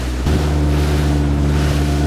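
A motorboat engine drones loud and steady out on the sea, a close, continuous low rumble with wind and water rushing past the hull.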